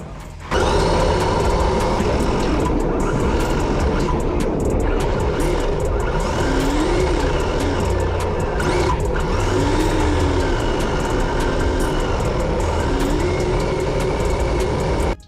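A RedCat RDS ready-to-run RC drift car runs hard around an indoor drift track, its electric motor whining and rising and falling over a steady, loud wash of noise as it slides through corners.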